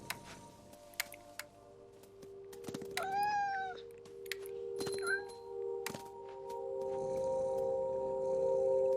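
A cat meows once, clear and close, in the video game What Remains of Edith Finch, among soft thuds, drips and clicks, with a low steady ambient hum underneath.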